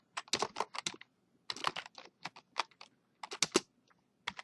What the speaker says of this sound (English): So the command to do that is to type gpart